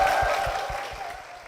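Short burst of applause at a church gathering welcoming a guest, a small crowd clapping briskly and fading within a second and a half.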